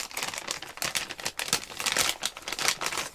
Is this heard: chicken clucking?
no